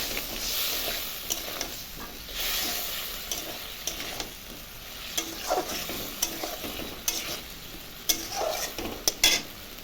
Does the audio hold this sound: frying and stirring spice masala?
yes